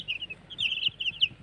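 Cobb 500 broiler chicks cheep close by in a rapid string of high, thin peeps that overlap one another in a brief, lively chorus.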